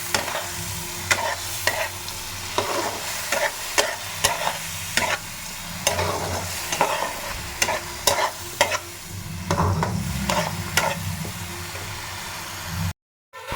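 Ground cabbage-leaf paste frying in a pan, with a constant close sizzle and a rhythmic series of sharp spatula scrapes and knocks roughly every half second to second, ending abruptly.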